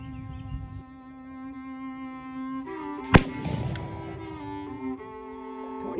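A single sharp, loud shotgun blast fired with black powder cracks once midway, then decays in a rumbling tail, over a steady background hum.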